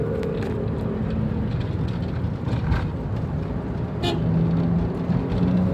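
Daihatsu Xenia 1000 fitted with a Blackcore turbo accelerating in third gear, a steady engine drone with rising tones and road rumble heard from inside the cabin.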